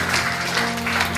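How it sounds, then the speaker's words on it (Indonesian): Congregation in a church clapping together, a dense steady wash of applause that fills the space, with a low sustained organ or keyboard tone beneath. "Tepuk tangan yang meriah buat Tuhan"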